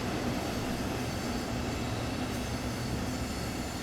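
A double-decker train on the Hamburg to Lübeck line in the video game Train Sim World 2 gives a steady, loud, close rumble with a constant low hum, holding level throughout with no talking.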